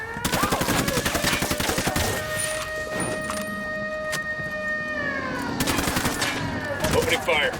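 Rapid gunfire in Ghost Recon Wildlands, bursts of close, fast shots at the start and again near the end, with a steady tonal hum and game voices in between.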